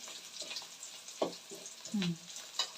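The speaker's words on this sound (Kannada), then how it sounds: "ಈರುಳ್ಳಿ ಸ್ವಲ್ಪ ಚೆನ್ನಾಗಿ ಬೇಯಬೇಕು ಬೆಳ್ಳುಳ್ಳಿ ಎಲ್ಲ ಅಲ್ಲಿ" Onions and garlic frying in a pan for a dry horse gram sambar, a steady soft sizzle with a few stirring scrapes and clinks, close and moderately quiet, with no one talking.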